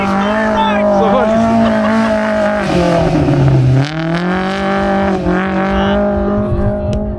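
A Maverick R engine drones loudly and continuously, pitch rising and dipping as it revs while driving, with a voice faintly mixed in.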